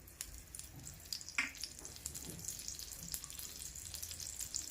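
Butter melting in a small amount of hot oil in a pan, a soft, steady sizzle with faint crackles and a light clink, close by and fairly quiet, with no talking.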